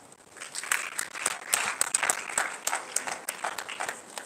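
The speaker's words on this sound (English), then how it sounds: "Please clap for her." A university freshmen orientation audience claps for a speaker, a fairly close, uneven burst of hand claps rising and falling in waves over a few seconds.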